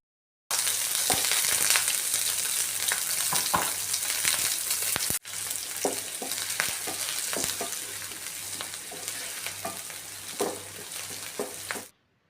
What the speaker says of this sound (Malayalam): ചെറിയുള്ളൊരു പത്തെണ്ണം അരിഞ്ഞെടുത്തിട്ടുണ്ട് നല്ലപോലെ വയറ്റി കൊടുക്കുക